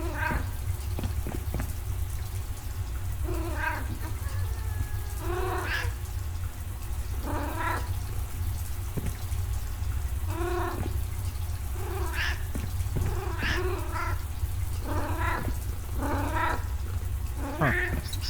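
A house cat meows repeatedly indoors, a string of distinct, fairly close calls spaced every couple of seconds over a steady low hum, with a faint rushing-water sound in the background.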